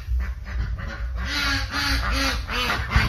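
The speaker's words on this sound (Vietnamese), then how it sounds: "Nuôi vịt." Ducks quack repeatedly at a backyard pond beside a vegetable garden on a rural Vietnamese property, a steady run of nasal calls close by with a constant low outdoor rumble underneath.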